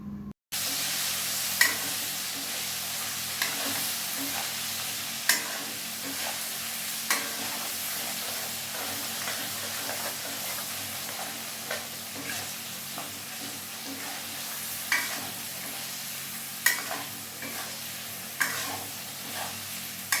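Green chilies with a little Kashmiri red chili being sautéed in a pan, a continuous sizzle broken by repeated scraping knocks of a spatula stirring at an irregular pace.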